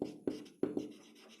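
A pen scratches quickly across paper, three short close strokes in quick succession, each trailing off, quiet and alone.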